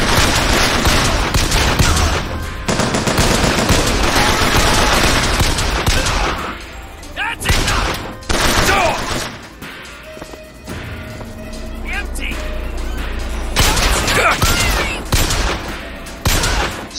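Gunfire in BioShock Infinite, a dense, loud barrage of rapid automatic shots and blasts that runs nearly continuously with a few brief lulls, while a player talks over the action.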